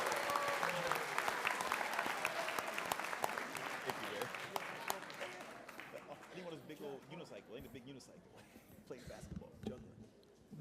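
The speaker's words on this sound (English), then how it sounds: "you can clap louder than that for them" An audience at a school board of education meeting applauds loudly with dense, continuous clapping that gradually thins and fades toward the end, with voices mixed in underneath.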